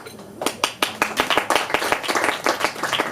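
An audience claps and applauds at a stand-up comedy show, loud and close, with a dense run of individual claps building into steady applause over about three seconds, no talk over it.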